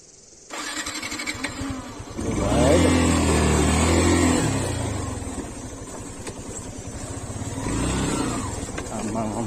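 A motorcycle on a muddy, slippery offroad trail in Kavre starts up with a crank and catch, then revs and idles roughly, rising again near the end, while someone speaks over it.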